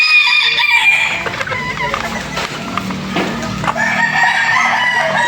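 Several False Spark Gray roosters and hens in a backyard flock crow and cluck continuously, with overlapping calls near and far and steady rustle beneath.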